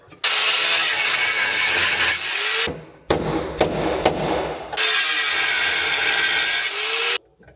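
A power saw cuts through old seat mounts near the floor pan of an old Volkswagen Bug, giving loud sustained grinding bursts broken by short pauses.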